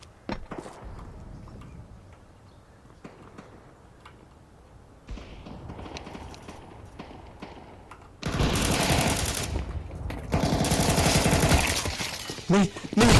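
Gunfire in the game Counter Strike 2: faint scattered shots at first, then loud, dense rapid bursts in the second half, with a brief sharp report near the end.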